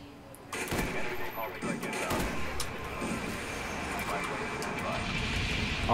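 Napalm air strike in Call of Duty Black Ops, a sudden loud burst swelling into a sustained rumbling roar of fire and explosions, with a voice talking over it.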